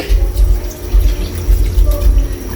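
Water pours into a pot holding pork intestines for dinuguan, a loud close splashing fill with pulsing surges.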